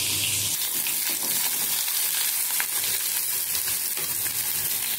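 Chopped onions and fennel fry in a pan for a dried-fish thokku, giving a steady, close, even sizzle and hiss that runs unbroken throughout with no talking.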